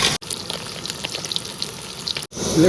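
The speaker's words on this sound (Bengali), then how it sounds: "আমি কিন্তু এখন মাছ ভাজা বসিয়ে দিয়েছি গোল্ডেন ফিশ একটা ভরা মাছ" A whole golden fish frying in a pan in the Sundarbans hisses and crackles with steady close sizzling, briefly cutting out twice, with no voices.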